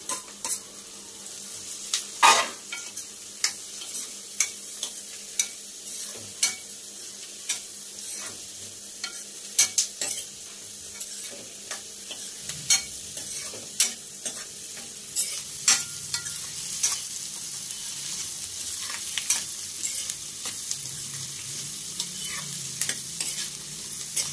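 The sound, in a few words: raw banana pieces frying with onions in a pan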